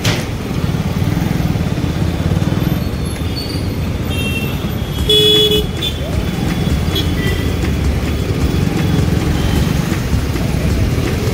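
Heavy road traffic heard from a motorcycle on the Dehradun to Delhi ride, a loud, constant roar of engines and wind with occasional horn toots rising above it.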